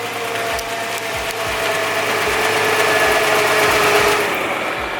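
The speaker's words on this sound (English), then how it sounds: "what you hear is like a grinding, rattling noise of, I'm guessing, the front drive shaft spinning" A Nissan GT-R idles in park while its front drive shaft spins with a grinding, rattling noise, a steady engine drone broken by regular low knocks about twice a second, close and loud, with no talk.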